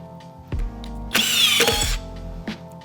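A Harbor Freight impact driver at speed 2 spins and hammers a 1 5/8 drywall fastener in a short, loud burst, bracketed by brief motor whirs close to the microphone.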